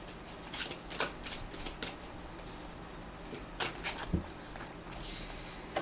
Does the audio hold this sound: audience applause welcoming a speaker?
no